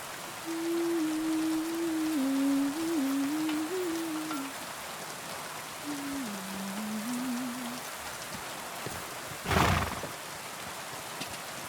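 Steady rain in Kingdom Come: Deliverance 2 hisses throughout at moderate level, with a low tonal hum wavering beneath and a brief louder burst near the end.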